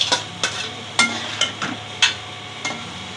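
Boiled vermicelli is tipped into melted sugar syrup in a pan, giving a series of sharp, separate scrapes and clacks of stirring at an irregular rhythm, close and clear with no talk.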